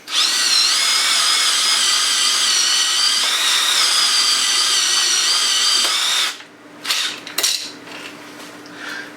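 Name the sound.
power drill closing a can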